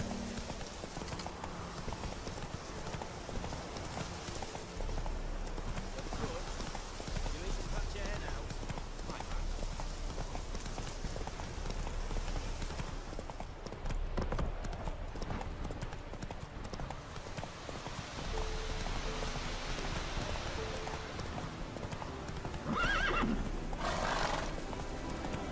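Roach, a horse in The Witcher 3, gallops with steady clip-clop hoofbeats and neighs, rising from a busy game soundscape with music and effects, while someone talks over it.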